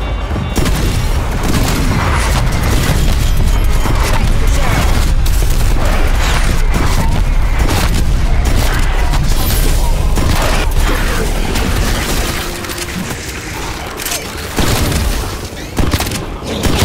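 Artillery strike explosions rain down in Call of Duty: Cold War Zombies during a solo Outbreak match, a dense, continuous barrage of booms and rattling blasts that stays loud throughout and thins slightly near the end.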